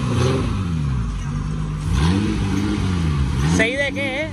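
A VW VR6 six-cylinder engine revs up and down repeatedly with a throaty exhaust note, loud and near, while a voice talks briefly near the end.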